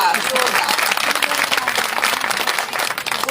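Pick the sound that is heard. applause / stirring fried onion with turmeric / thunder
applause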